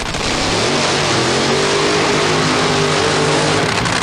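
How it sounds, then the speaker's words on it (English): A drag racing car roars continuously at high revs during a tire burnout at the 1988 NHRA Springnationals, loud and close, with a harsh droning tone and no voices. "You're riding with Eddie Hill as he gets set to do his burnout."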